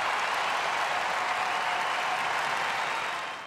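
Tennis spectators at a London 2016 semi-final tiebreak between Murray and Raonic break into loud, sustained applause and cheering, a dense steady roar that holds for several seconds before beginning to fade.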